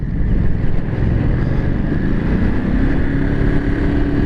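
A 2022 Ducati Monster 950 V-twin motorcycle engine runs loud and close, giving a steady throbbing low rumble with a rising pitch toward the end as it pulls.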